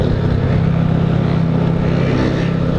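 Engines of a modified Honda Fan 125 bored to 145cc and a Honda Start 160 with a performance camshaft revving hard together, a loud, steady, close drone with a throbbing pulse and no talk.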